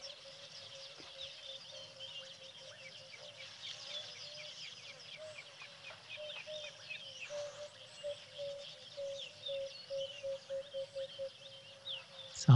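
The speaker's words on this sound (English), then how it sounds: "Sounds like that wood dove is really close to the microphone. Beautiful call." Wood dove calling close to the microphone in the outdoors, its soft repeated call set over a steady chorus of other birds and insects that grows busier toward the end.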